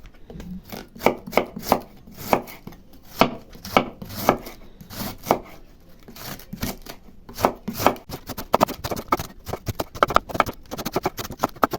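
A knife slices through stuffed bread rolls on a board in a village kitchen, giving a steady run of sharp, close chopping knocks, some louder than others, with faint soft rubbing between cuts and no talk.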